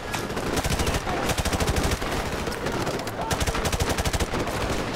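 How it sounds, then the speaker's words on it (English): Sustained automatic gunfire in Call of Duty 4: Modern Warfare Remastered, fired from a fortified position, with rapid regular bursts of shots running steadily throughout at close range. "I'm just gonna shoot from a fortified position."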